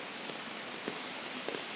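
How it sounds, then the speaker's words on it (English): Heavy rain pours steadily onto a city street on North Bridge Road, a dense, even hiss with faint scattered drop taps, fairly quiet and unbroken for a moment. "sound of the rain"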